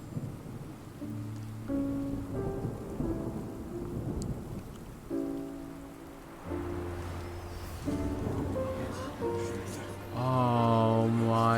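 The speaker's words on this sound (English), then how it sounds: "It's raining again?" Rain with rolling thunder in the video game Genshin Impact, a steady wet hiss under rumbling booms, mixed with tonal game music throughout and swelling louder near the end.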